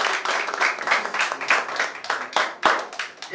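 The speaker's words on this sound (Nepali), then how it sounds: "जोरदार तालीले उहाँलाई अभिनन्दन गर्छु" An audience claps in applause for the chief guest at a closing ceremony of a ten-day personality development and announcing training, with steady uneven clapping throughout at moderate distance.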